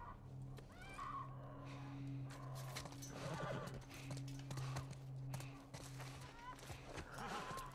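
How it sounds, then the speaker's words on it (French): A horse in The Last of Us Part I video game whinnies and moves with hoof clops, heard alongside background game sounds, a low hum and talking voices. "Stay with the horse."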